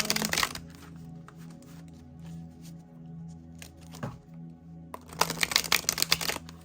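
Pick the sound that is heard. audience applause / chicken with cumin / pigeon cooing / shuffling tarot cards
shuffling tarot cards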